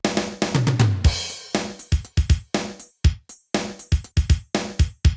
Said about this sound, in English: My JD990 has 2 kits, A or B. I'm going to use B